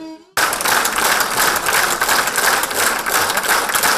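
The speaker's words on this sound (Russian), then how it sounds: "Его игру и весь концерт публика оценила бурными аплодисментами." A classical concert audience in Naryan-Mar, after a Brahms program, bursts into loud, dense, sustained applause that starts abruptly after a brief tonal moment and continues steadily to the end.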